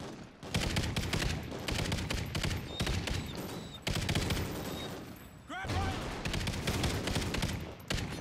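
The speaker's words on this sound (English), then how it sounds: "I'm not grabbing him if I'm getting fucking pelted with bullets." Heavy gunfire in Call of Duty Ghosts, Sin City level, rapid machine-gun bursts and shots filling the scene almost continuously, loud and close, with brief chirping effects and a moment of louder impact near the end.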